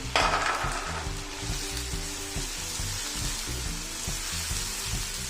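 Chicken feet fry in a pan with a steady, close sizzle and rhythmic stirring scrapes throughout, loudest at the start, with no voices.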